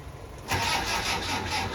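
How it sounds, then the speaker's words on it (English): A classic Land Rover Defender 90 engine cranks on a jump start and catches, then settles into a steady mid-pitched running rumble close by. "So now I'm going to try and start the car and see if we've fixed it."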